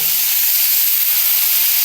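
Vegetables fry in hot oil in a pan, giving a loud, close, continuous sizzling hiss that stays even for its whole short length.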